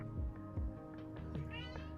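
A domestic cat meows several times in short, near, fairly loud calls with a rising drawn-out final meow, heard indoors with no talking over it.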